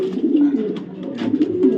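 A pair of white racing pigeons coo nearby in low, throaty, rolling bursts, repeating steadily without pause.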